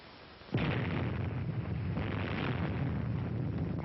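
The 1946 Operation Crossroads nuclear bomb test at Bikini hits with a sudden, heavy blast after a half-second of quiet, then rolls on as a loud, rumbling roar that sustains without fading, with a muffled, band-limited quality.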